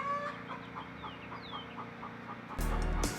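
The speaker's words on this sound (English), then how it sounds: "Can you all hear the chicken in the background?" A chicken clucks in a steady rhythm of short calls somewhere in the background, fairly faint and distant, with a louder burst of noise at the end.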